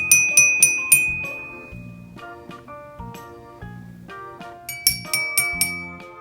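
Toy xylophone struck with a mallet: a fast cluster of high, bell-like notes, then a few slower, deeper single tones stepping down, and another quick flurry of high chiming strikes to close.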